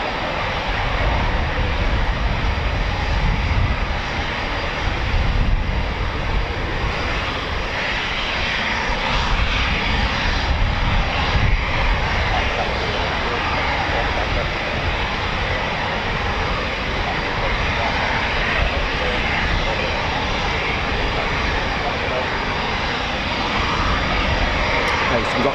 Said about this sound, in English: We've got 4 Typhoons at the taxi holding point.